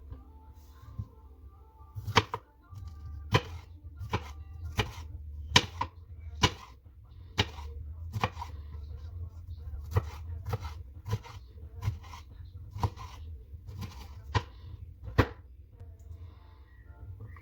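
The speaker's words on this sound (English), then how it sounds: "And now it's ready to chop." A knife chops a deseeded vegetable on a cutting board for a quinoa salad, producing a steady series of sharp, close taps roughly every half second over a quiet low hum.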